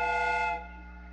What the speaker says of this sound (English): The steam whistle is ready to be used.